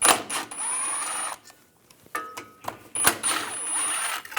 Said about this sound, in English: On the other side, there's two 10mm bolts,